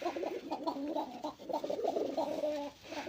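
Breeding pigeons coo repeatedly in soft, throaty rolling phrases, close to the microphone, with no talk over them.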